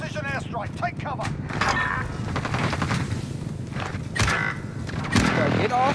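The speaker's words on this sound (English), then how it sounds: "just sitting there unloading a LMG" Light machine gun fire in a video game battle, repeated bursts under players' overlapping talk and shouts, with other game sounds mixed in throughout.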